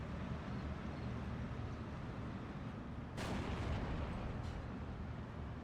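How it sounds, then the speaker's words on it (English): Artillery fire in the Steel Division 2 war game, a steady low rumbling bombardment with a sharper nearby blast about three seconds in and a fainter burst after, no talk. "We're going to redirect our artillery fire onto that coordinate."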